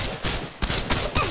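Gunfire in the PUBG battle royale game during a solo match, with several sharp, loud bursts of rapid shots in quick succession over a steady background hiss.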